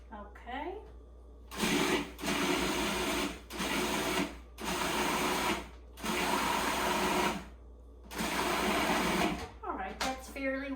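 A food processor pulses biscotti ingredients in four loud bursts of whirring, each lasting about one to two seconds, separated by short quiet gaps.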